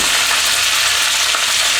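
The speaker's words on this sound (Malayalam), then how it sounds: "കടുക് പൊട്ടി ഇതിലേക്ക് നമുക്ക് കറിവേപ്പില ഇടാം." Mustard seeds spluttering in hot coconut oil at the start of a Kerala-style pork roast, giving a loud, dense, continuous sizzle and crackle close up, with no voices.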